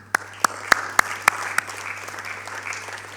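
Sparse, distinct hand claps ring out in a steady rhythm at a graduation ceremony for MBA postgraduate students, then fade into a soft, diffuse hiss of thinner clapping.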